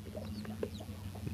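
Baby chicks being sorted and separated give a few faint, high, brief peeps over a steady low background hum.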